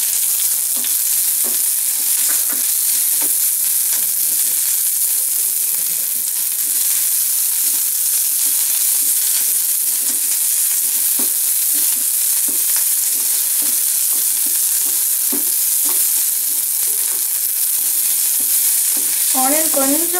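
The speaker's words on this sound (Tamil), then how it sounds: "ஆயில் சூடாகி நல்லா ஆவி வரும்போது ஆனியனை போட்டுக்கோம்." Onion frying in hot oil for white sauce macaroni, a steady close sizzle with repeated scraping stirs of a spoon in the pan, continuous throughout with no talking.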